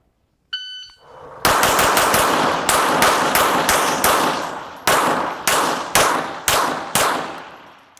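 Rapid gunfire during a practical shooting stage run: about a dozen loud, sharp shots in quick bursts with short pauses between groups, each ringing briefly, with a faint beep at the start.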